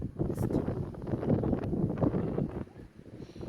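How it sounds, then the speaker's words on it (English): Gusty wind buffets the microphone in uneven rushes, loud and close, with no talking. "It's windy, man."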